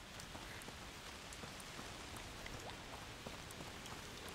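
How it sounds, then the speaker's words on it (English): Steady rain in A Plague Tale: Requiem, a video game, falling on surfaces as a constant, dense hiss with scattered droplet taps, fairly quiet and continuous with no voices. "Foul rain"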